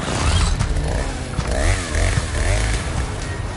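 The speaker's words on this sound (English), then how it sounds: "That chainsaw revving up still makes my heart skip a beat." A chainsaw revs in the Resident Evil 4 remake video game, a harsh, loud, continuous buzzing roar with rising and falling whine as the throttle surges.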